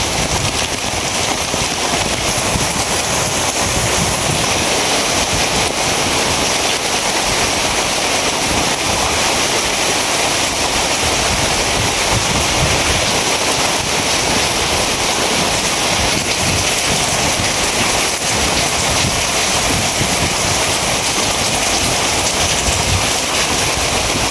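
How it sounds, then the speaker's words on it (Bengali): Heavy rain pours down with strong gusting wind in a rural Bengali village, a loud, dense, unbroken roar of water and wind with rumbling buffeting that continues without pause. "বৃষ্টি শুরু হয়েছে।"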